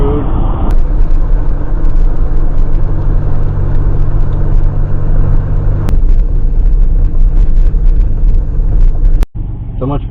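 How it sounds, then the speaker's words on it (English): A Pontiac Fiero GT drives along a road with a loud, steady engine and road rumble heard from inside the car, broken by a couple of sharp clicks and a brief drop near the end. "So much fun to drive this Fiero"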